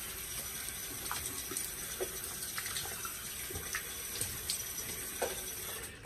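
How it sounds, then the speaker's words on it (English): Cold water runs steadily from a tap into a sink for rinsing, a continuous close hiss and patter broken by small splashes where hands move through the stream. "And I rinse with cold water."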